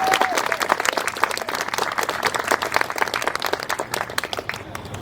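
Audience applause at a book launch for a middle-grade novel, dense, steady clapping from a roomful of people that carries on for several seconds before starting to thin.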